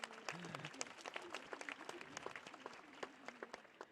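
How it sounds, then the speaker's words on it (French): Scattered applause from an audience at a church round-table talk, faint and somewhat distant, with individual claps standing out and a voice briefly heard over it. "vous pouvez les applaudir parce que c'est beau"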